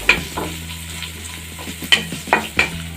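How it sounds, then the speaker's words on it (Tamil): Chopped onion sautéing in a pan over a steady frying sizzle, broken by a few sharp, close spoon scrapes and clinks near the end, with no talking. "நல்லா வதக்கி விட்டுக்கலாம்."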